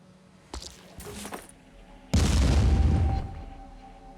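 Grenade explosion in the video game Terror from the Void: Etermes: a few small clicks and pops, then one loud booming blast that rumbles for about a second and fades.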